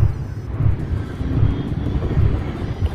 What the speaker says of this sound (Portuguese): O avião se alinhando aí a pista.